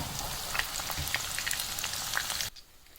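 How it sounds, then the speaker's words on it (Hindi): Onions and okra frying in oil for dhaba-style masala bhindi, a steady dense sizzle with crackling pops that drops abruptly to a quiet hiss near the end. "यहाँ पे ये प्याज और भिंडियाँ बहुत अच्छे से फ्राई हो चुकी है"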